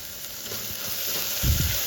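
Green chillies, coriander and mint leaves sizzling in a hot pan for chicken kurma, a steady crackling fry with a brief stir clatter near the end.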